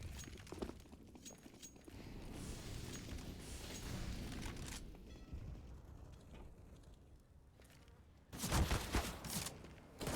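Gunshots in a Counter-Strike match on the Canal map, scattered crackling shots and clattering mechanisms through the middle, then a louder burst of rapid fire near the end, amid busy game noise.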